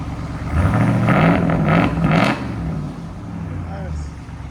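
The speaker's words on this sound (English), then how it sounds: "Go ahead and rev it." A 2024 RAM 2500 with a 6.4L HEMI V8 and a Borla ATAK exhaust revs up close and loud, a deep surging roar that peaks and then settles back to a rumbling idle. People talk over it.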